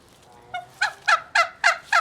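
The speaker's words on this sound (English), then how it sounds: "there's a turkey." Turkey gobbling on a farm, a rapid series of five or six loud, rattling calls in quick rhythm, fairly close and clear with no talk over it.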